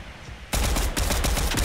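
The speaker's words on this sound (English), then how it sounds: "We found a new weapon already. The mammoth pistol." A mammoth pistol firing in Fortnite, a sudden loud burst of rapid shots that keeps going after a quiet start, with the reports coming close together and sitting up front.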